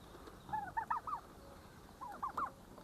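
Turkeys on a pet farm let out two short bursts of rapid gobbling, moderately close, against a quiet background with no one talking.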